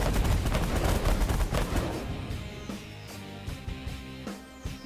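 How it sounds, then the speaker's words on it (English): Weapons firing on enemy ships in the space strategy game The Last Federation, a dense barrage of sharp blasts and booms that thins into scattered shots, loud and without speech. "And continue just firing on them and hope our shields hold out"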